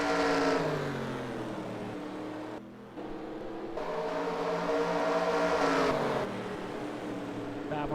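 Race cars at Vernon battle for position on an oval track, engines droning and rising in pitch as they pass close by, with a brief dip before the roar swells again.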